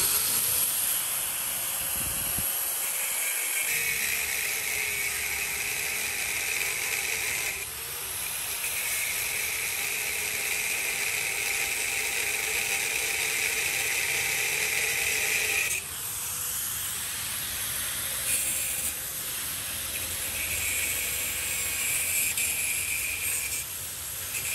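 Metal cutting on a 110cc motorcycle exhaust pipe, a continuous loud hissing, grinding whine that holds steady for long stretches with brief breaks and shifts in pitch, alone without talk.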